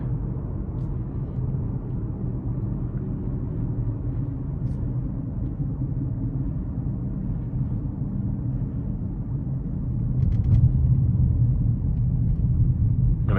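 A 2026 GMC Terrain AT4 AWD accelerates onto an interstate, heard from inside the cabin as a steady low engine and road rumble that swells louder near the end as the throttle is pushed.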